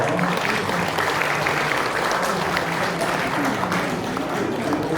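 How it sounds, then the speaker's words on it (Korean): Sustained audience applause fills the hall at a church mission board general meeting scholarship presentation, steady and dense throughout with no break. "박수해 주십시오."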